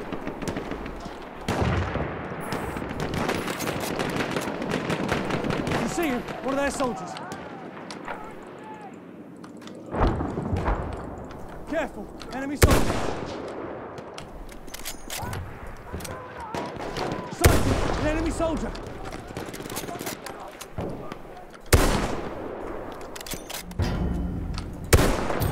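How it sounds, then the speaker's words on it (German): Gunfire in the Battlefield 1 video game: repeated sharp shots and explosive bursts in irregular clusters, some loud and close, with someone talking over the action throughout. "Drei Schuss habe ich gebraucht, um den Scharfschützen zu töten."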